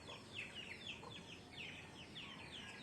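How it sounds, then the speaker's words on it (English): Little chicks peep and chirp in quick high-pitched bursts beside their mother hen, soft and slightly distant, with a low cluck-like murmur underneath. "You hear the little chicks going with their mom?"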